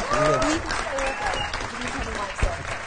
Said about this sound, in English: Can you have a round of applause for that, team?